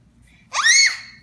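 Young child's high-pitched scream at home, a single sharp rising cry lasting about half a second, loud and close against a quiet room.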